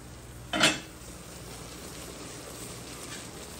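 Shrimp and brinjal frying in a pan, a steady soft sizzle throughout, with one brief louder scrape-and-hiss burst of stirring near the start.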